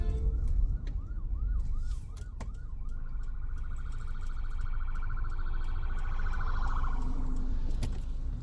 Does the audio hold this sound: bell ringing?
no